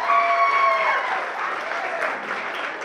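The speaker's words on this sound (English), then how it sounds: "Give yourselves a round of applause for being here." Wedding guests applaud during the toasts and speeches, a short burst of dense clapping at moderate volume that holds steady and begins to fade slightly toward the end.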